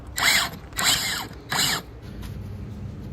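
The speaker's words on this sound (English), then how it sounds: "Then we can drive some longer screws in from the side." Three short bursts of a power driver sinking long screws into a plywood frame, each lasting under half a second, close and separated by brief pauses, followed by quiet room noise.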